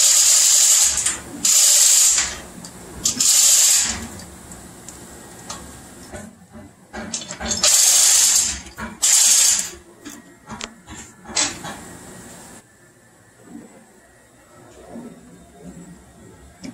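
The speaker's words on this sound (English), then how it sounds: "starting to wiggle the pump here" Raw water pump being worked loose from a Cat 3516 marine engine, with intermittent metallic scraping, clunks and hissy bursts in a noisy engine room, loud strong bursts early giving way to quieter clatter.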